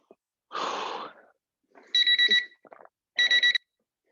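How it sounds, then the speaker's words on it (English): Workout interval timer alarm goes off as two short bursts of rapid, high electronic beeps, each following a brief rush of noise in an otherwise quiet room. "That is the timer telling us that we are pretty much done with that workout."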